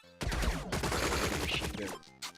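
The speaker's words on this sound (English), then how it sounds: "Machine gun." Machine gun fire from the Relic Hunters video game roars in a dense, continuous burst lasting about two seconds, loud and close, with a brief extra burst right after over a background game tone.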